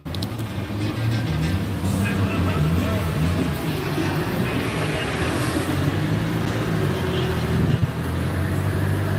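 A car runs hard on an outdoor dyno at a car meet, a steady loud engine drone with low rumbling harmonics holding for the whole stretch, with crowd noise and some talk underneath.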